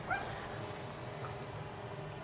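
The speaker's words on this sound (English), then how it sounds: "People's dogs are barking at me." Dogs bark from a distance across a dock, with a short yip at the start over steady outdoor background noise.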